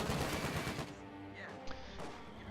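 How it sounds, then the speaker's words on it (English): Small arms fire in a real-time strategy video game, heard as a quick cluster of sharp gunshot bursts at the start that then drop away into quieter battle ambience. "he is taking a little bit of damage from small arms fire"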